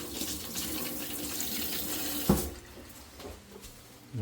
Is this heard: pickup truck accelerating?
no